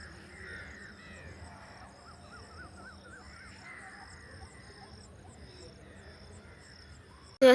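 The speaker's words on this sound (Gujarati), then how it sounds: "જનાવર પક્ષી જો બોલે છે" A bird calls repeatedly in the distance over steady insect chirring, with a short loud bump at the very end.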